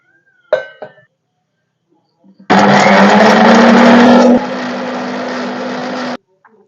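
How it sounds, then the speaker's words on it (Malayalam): A kitchen mixer grinder grinding leaves for a cough remedy, starting abruptly with a loud steady whir, dropping slightly in pitch midway and cutting off after about four seconds; brief clatter precedes it. "ഇപ്പോൾ മിക്സിയിലിട്ട് ഇല ഒന്ന് അരച്ചെടുക്കണം കേട്ടോ."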